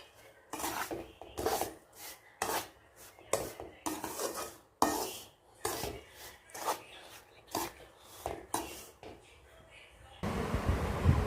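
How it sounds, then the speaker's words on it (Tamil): A spoon stirring powdered sugar into a rava laddu mixture of semolina and cashews in a metal vessel, gritty scraping strokes in irregular bursts, close, ending in a wash of noise. "இப்போது குளுக்கோஸ் மாதிரி இருக்கிற ஜீனியை போட்டு கலக்கிக்கலாம்."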